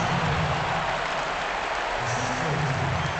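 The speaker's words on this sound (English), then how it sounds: "You can hear a little charge out of the crowd there." Steady applause and crowd noise roars through a simulated high school basketball game in a home-leaning Los Angeles arena, swelling slightly near the end.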